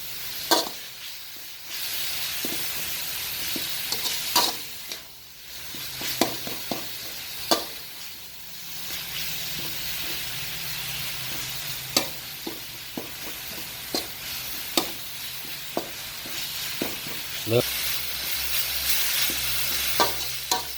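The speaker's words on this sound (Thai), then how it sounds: "ลงไปผัดให้มีกลิ่นหอมนะครับ ผัดให้มีกลิ่นหอมนะครับ" Ingredients for Thai tamarind chili paste stir-fried in a pan until fragrant: a steady sizzle broken by sharp, irregular scrapes and knocks of a utensil against the pan, with no talking.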